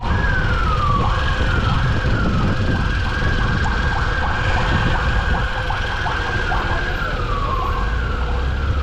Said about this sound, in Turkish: Gazi Emir'den gelmiş itfaiye. Yukarı doğru çıkıyor.